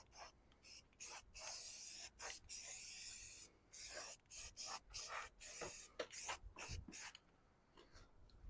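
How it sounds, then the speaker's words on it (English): Rust-Oleum spray paint hisses in a series of short and longer bursts as it primes old car parts, close and fairly quiet, with brief pauses between passes. "Give them a little coat of Rust-Oleum here. Priming them up."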